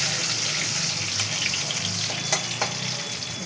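Dry red chilli and bay leaf frying in hot oil in a kadai, a steady bright sizzle with a couple of sharp spits and crackles midway, close and loud with no voices.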